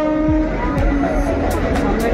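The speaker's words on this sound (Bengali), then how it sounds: "ওই দেখো ট্রেন যাচ্ছে" A train passes near the Khirai flower fields: a steady loud rumble of rolling wagons with brief horn-like tones, heard outdoors and up close, with faint voices in the background.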